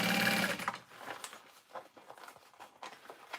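Sewing machine stitching a satchel lining together, a brief close burst of motor whir in the first half-second, then quiet handling taps and light rustles.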